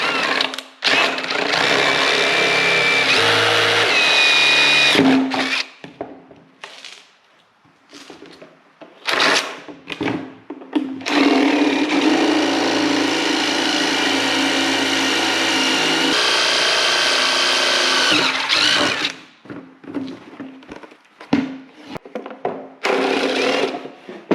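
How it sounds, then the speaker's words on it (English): Power drill boring out holes through fiberglass on a Kubota tractor fender, with repeated loud bursts of whirring and grinding separated by short pauses, close up and with no talk. "So the next thing I'm going to do is just drill out these holes because they have fiberglass on them now."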